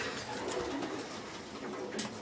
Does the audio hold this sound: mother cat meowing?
no